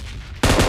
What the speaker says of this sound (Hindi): गोलियां हैं जो कि मतलब बार बार लोहे में लग रही थी, पट्टी में लग रही थी